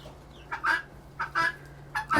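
Young chickens in a brooder give several short chirping peeps in separate bursts at close range, with a faint steady hum running beneath them.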